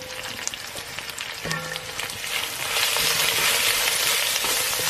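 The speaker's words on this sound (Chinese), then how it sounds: "锅里剩一些底油，加入生姜、青椒和红椒、红辣椒，这些料全部炒香" Ginger, green and red peppers, chili and garlic stir-frying in a little leftover oil in a wok, a constant bright sizzle that swells louder toward the end, with occasional utensil clinks and scrapes, close by and free of speech.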